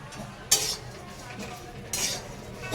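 Dry shrimp roasting in a pan, quiet low rustling broken by two bright scraping, clinking utensil strokes against the pan, close and short.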